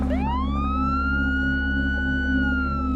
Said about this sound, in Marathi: बाहेरून पोलिसांच्या गाडीच्या सायरनचा आवाज येऊ लागला.